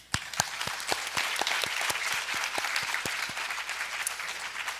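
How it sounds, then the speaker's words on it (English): Audience at a school English debate competition applauding after a heated round, a lively burst of many hands clapping steadily, fairly close and loud, with little talk. "Let's give these guys a round of applause."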